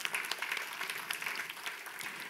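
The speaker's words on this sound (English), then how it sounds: "let's give ourselves a round of applause," Audience applause at an aviation diversity and inclusion talk, a moderate, continuous wash of many clapping hands lasting a couple of seconds.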